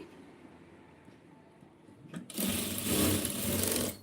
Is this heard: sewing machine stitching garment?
yes